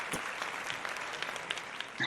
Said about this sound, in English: Let's give Jim a round of applause.